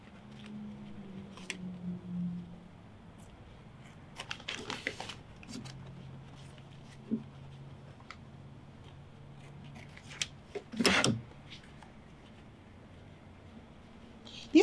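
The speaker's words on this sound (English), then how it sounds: "these are our new scissors." New scissors snipping fabric appliqué on stabilizer, a handful of brief crisp cuts in small clusters, close and quiet, with faint voice in the background.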